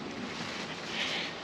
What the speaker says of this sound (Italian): più che altro c'è vento, non fa freddo, c'è vento